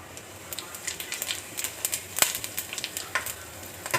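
Cumin seeds dropped into hot oil with whole spices like cinnamon, black cardamom, cloves and black pepper, crackling and popping in quick, faint, irregular bursts close by.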